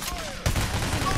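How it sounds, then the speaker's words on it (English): A sudden volley of gunfire during a First World Bank heist in Payday: The Heist, a dense burst of shots erupting after a brief lead-in and continuing steadily to the end. "Somebody's shooting me."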